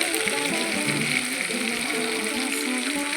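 Pre-fried chicken sizzles steadily in a hot pan while being stirred, a dense continuous crackle with soft scraping underneath, close and fairly loud with no talk.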